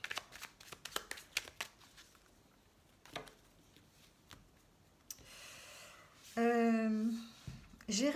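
Tarot cards are shuffled and cut by hand in a pattering flurry of close, soft riffling slaps, followed by quieter handling and a brief voice near the end.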